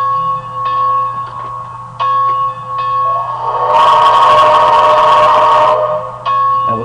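Locomotive bell on a Bachmann Spectrum 2-6-6-2 articulated steam model train with DCC sound, clanging in steady repeated strokes over a constant hum, briefly joined by a louder broadband hiss before the bell strokes resume.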